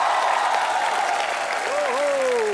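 A studio audience for a comedy talk show bursts into steady, loud applause that fills the space, with a bright tonal musical swell rising beneath the clapping toward the end.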